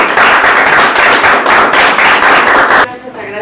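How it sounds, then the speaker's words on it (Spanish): An audience applauds a doctor introduced before a lecture on AI prediction of protein complexes in viral infection, steady loud clapping that stops abruptly near the end, followed by a brief faint voice. "Les pido un aplauso para la doctora."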